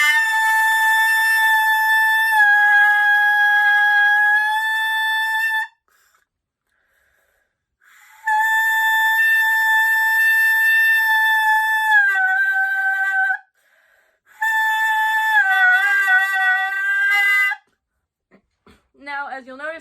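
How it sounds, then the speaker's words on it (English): A saxophone plays sustained tones with a crunchy, buzzy edge from a poor seal. Three long phrases are separated by short silences, and the notes bend and waver near the end. "I'm getting this weird kind of crunchy sound, and that sound is caused by a lack of seal"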